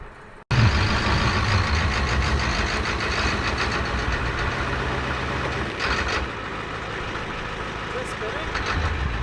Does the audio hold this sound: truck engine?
yes